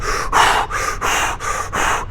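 A person imitates fire breathing with fast, forceful panting: six sharp rhythmic exhalations in quick succession, close and loud, with no talking.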